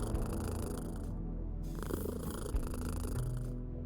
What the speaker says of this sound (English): pet Mildred so he can listen to her meowing and purring